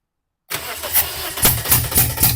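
A Toyota engine with a misfire cranks during a compression test, starting after a half-second of silence, with steady rhythmic cranking pulses at close range and no talking.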